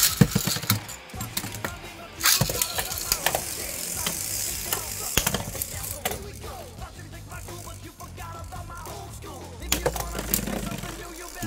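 Two Beyblades, Poseidon and Driger G from the G Revolution series, spin and grind inside a plastic stadium, with sharp metallic clacks and scrapes as they collide repeatedly in a fast, rattling battle.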